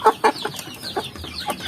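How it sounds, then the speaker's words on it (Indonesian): Free-range village chickens cluck in short, repeated bursts close by, several calls overlapping in a quick irregular rhythm with no talk. "Seperti ini ayam-ayam yang terlihat sehat, nafsu makan mereka sangat kuat"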